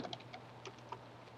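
Keystrokes clatter on a computer keyboard in a quick burst of several taps, a pause, then a few more scattered presses, fairly close and moderately quiet over a low steady hum.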